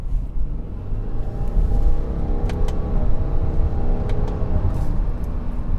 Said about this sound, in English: it took a little bit for the turbo to kick in, but once the turbo kicks in, you're off